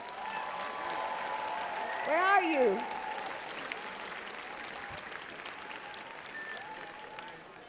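Applause welcomes the referees at a robotics competition, a steady broad patter from a crowd filling the room, with a host's voice briefly speaking over it and a rising tonal sweep partway through.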